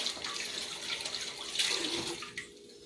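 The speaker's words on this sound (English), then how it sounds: "Let me just wash my hands because that is salmonella." Hands being washed under a running kitchen tap, a steady rush of water splashing into a sink that shifts as the hands move, then drops away near the end.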